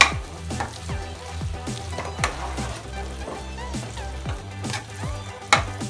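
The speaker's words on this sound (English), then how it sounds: "Red chili powder, turmeric and salt. And saute this once." Dry masalas with red chili powder, turmeric and salt sizzle as they are sautéed for Mumbai-style pav bhaji, the frying crackle broken by repeated spatula scrapes and knocks against the pan, with no voices.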